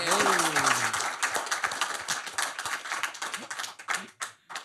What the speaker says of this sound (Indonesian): Tepuk tangan buat Bung Rocky Gerung.